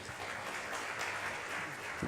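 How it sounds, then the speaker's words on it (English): A round of applause from a forum audience in a hotel conference room, a soft, even wash of many hands clapping that stays steady for a couple of seconds, fairly distant and quiet. "give them a round of applause"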